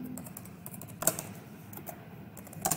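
Typing on a computer keyboard, a quick run of soft close key clicks with a few louder taps, light and steady with no talk.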